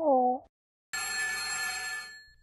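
A telephone ringing sound effect in a Dr. Seuss story app, Daisy-Head Mayzie: a short chime-like tone, a pause, then a sustained bright electronic ring that slowly fades.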